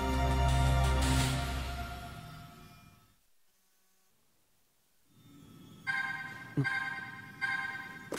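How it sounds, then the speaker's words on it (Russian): A phone rings inside Legend of Zelda: Tears of the Kingdom, a bright melodic chime with repeated tones that starts after a quiet gap and stands alone without voices. "О, телефон зазвонил."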